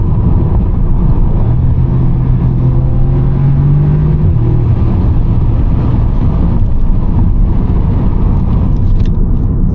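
A 2014 Audi S3 8V1 with 290PS and an S-Tronic gearbox drives along a tree-lined road, its engine a loud, steady rumble with a brief rising whine midway and no talk.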